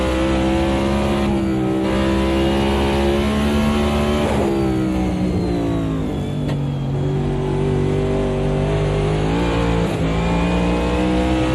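A race car engine in a sim racing game, heard onboard during a CASSCAR Roadmaster Series race at Road Atlanta, drones loudly and steadily. Its pitch rises briefly with a quick throttle blip, then drops back.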